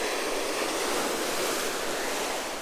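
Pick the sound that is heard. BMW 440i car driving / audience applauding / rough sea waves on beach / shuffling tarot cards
rough sea waves on beach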